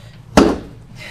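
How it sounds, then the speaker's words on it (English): A single sharp bang of a hand or paper being knocked against a surface during a watercolor workshop, meant to make wet paint drips run down the paper; one loud hit that fades quickly over a quiet room. "bang on the paper so that the drips come down."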